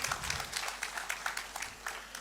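Audience clapping for a family being honored at an event in Pakistan, a dense steady patter of many hands filling the room at moderate volume.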